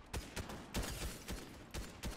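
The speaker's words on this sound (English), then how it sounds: "I love shooting while I'm sledding." Gunfire in Fortnite while sledding across a snowy map: a rapid series of sharp, evenly spaced shots, fairly faint and alone.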